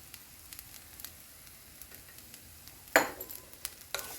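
Curry leaves fry in hot oil for a chutney, giving a soft, steady sizzle near at hand with light stirring taps and a sharp clatter of utensils against the pan near the end.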